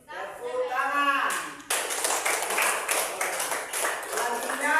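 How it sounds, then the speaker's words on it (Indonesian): A classroom of students claps their hands together in a dense burst of clapping that starts sharply and carries on steadily for several seconds, following a brief spoken stretch at the opening. "Tepuk tangan"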